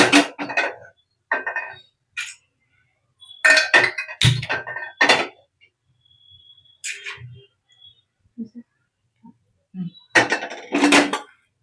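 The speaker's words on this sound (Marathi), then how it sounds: "टोप ठेवते." A cooking pot is set onto a home stove before tempering dal, giving several separate clanks and metallic clinks with quiet gaps between them, close and fairly loud, no talking.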